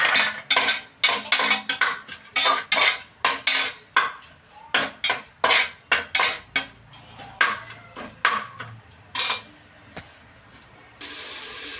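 Tomatoes being mashed and stirred in a hot cooking pan, a long run of loud rhythmic metallic clanks and scrapes from a utensil striking the pan, followed by a steady hiss.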